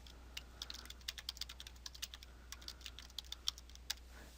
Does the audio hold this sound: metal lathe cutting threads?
no